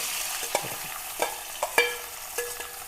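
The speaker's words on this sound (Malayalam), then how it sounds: "ചട്ടി വെച്ചിട്ടുണ്ട് എണ്ണ ഒഴിച്ചിട്ടുണ്ട് ഇതിലേക്ക് ഒരു രണ്ട് വലിയ സവാള ഒരു തക്കാളിയുമാണ്" Onions and tomato frying in oil in a pot for a beef curry, a steady close sizzle broken by several sharp clinks of a spoon stirring against the pot, with no voices.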